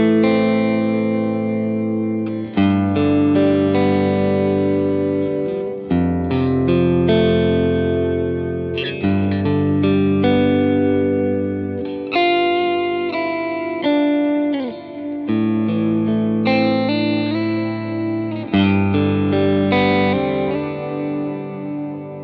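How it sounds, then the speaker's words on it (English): Electric guitar played through a BOSS DD-500 delay pedal on its Tera algorithm with compression, sustained ambient chords swelling and blooming into long washy repeats, changing every few seconds and never decaying to silence. "there's nothing on the board except for compression and the DD-500 with the Tera algorithm"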